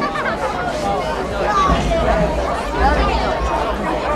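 Crowd at a 5A women's high school soccer game between Timpview and Brighton, a dense steady babble of many voices chattering and cheering at close range throughout.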